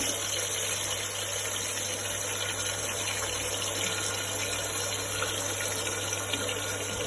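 A continuous hiss of water pours steadily into a cooking pot of biryani masala for several seconds, with a low hum underneath and no voices.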